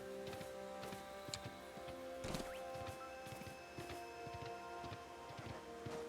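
Hoofsteps of a ridden sacred deer in the video game Pokemon Legends Arceus, a steady rhythmic clip-clop of light ticks running under game music and ambience.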